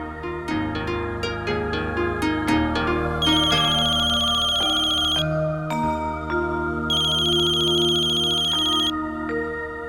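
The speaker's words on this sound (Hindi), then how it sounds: "किसका फोन है" A telephone ringtone plays loud and close in a home, a bright repeating electronic melody with no one talking over it.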